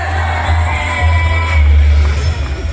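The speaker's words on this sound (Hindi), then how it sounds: "जोरदार तालियां मनप्रीत के लिए।" A large university crowd cheers and shouts for hockey captain Manpreet at a gathering of Olympians. A roaring, sustained crowd swell with whoops and yells builds in waves, loud and continuous.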